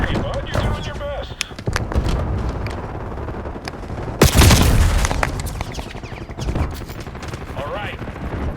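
An enemy flashbang detonates in Black Ops 6 amid scattered gunfire: a sudden loud burst with a bright ringing hiss midway, then continued shots and game voice lines around it.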